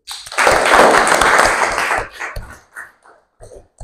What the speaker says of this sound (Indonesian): tepuk tangan untuk kalian dulu